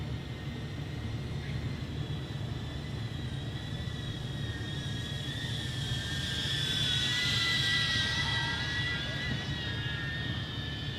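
A DJI Avata FPV drone races at full speed, giving off a steady, high-pitched propeller whine over a broad rushing hum that swells slightly midway through. It sounds fairly close and carries on alone, with no talking.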